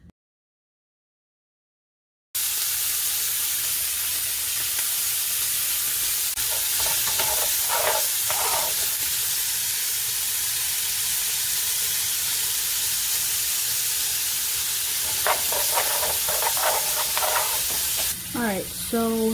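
Minced food sizzles loudly in a hot pan for a pasta dinner, a constant close frying hiss that begins after a short silence, with bursts of spatula stirring and scraping partway through.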